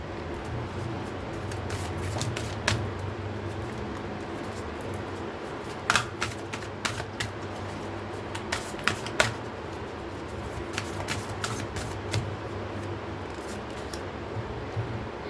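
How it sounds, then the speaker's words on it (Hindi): Tarot cards are shuffled by hand in quick bursts of crisp riffling snaps and flutters, repeated in irregular clusters over a soft steady background hum, close and moderately quiet. "जब तक मैं कार्ड शफल कर रही हूँ"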